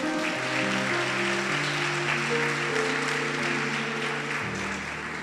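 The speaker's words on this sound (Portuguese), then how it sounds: "Se você crê nisso, aplauda Jesus" Church congregation applauding together in sustained, steady clapping that fills the whole room, with sustained organ or keyboard chords underneath.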